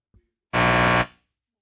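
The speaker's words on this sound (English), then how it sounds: "Are we having a fire alarm?" A fire alarm goes off during a council meeting, one loud harsh buzzing blast lasting about half a second, preceded by a faint short sound.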